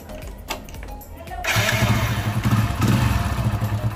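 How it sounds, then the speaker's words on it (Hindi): A BS6-standard motorcycle starts up: a few quiet clicks and thumps come first, then the engine catches at about a second and a half and settles into a close, rhythmic, thumping idle. "हमारी बाइक जो है स्टार्ट हो चुकी है"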